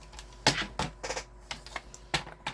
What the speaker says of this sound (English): We're going to set that aside and bring in our trimmer.